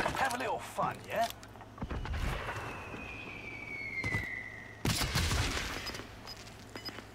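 Gunfire in the video game Call of Duty Warzone: bursts of rapid shots crack in clusters at the start and again later, with a sweeping whine between them and players talking over the action.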